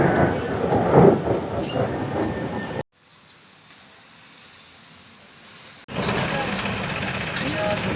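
Heavy rain and rumbling thunder during a hot-season downpour sound loud and steady, cut by a sudden near-silent gap before resuming, with a voice talking over the storm.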